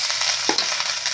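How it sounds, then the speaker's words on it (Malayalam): Grated coconut and jaggery roasting in ghee with cashews and raisins for vattayappam, giving a loud, continuous close sizzle broken by one brief stirring scrape. "ശർക്കര അങ്ങോട്ട് ഒന്ന് നല്ലപോലെ ഇളക്കി മൂപ്പിച്ചെടുക്കുക"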